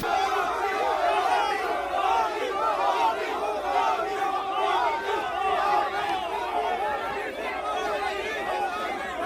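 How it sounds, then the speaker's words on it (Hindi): A large crowd shouts political slogans at a rally in Amethi, a dense, continuous roar of many voices chanting together with no pause across nine seconds. "हुल गांधी का सबसे अलग अंदाज तब देखने को मिला जब अमेठी में उनके खिलाफ नारे लगाए गए"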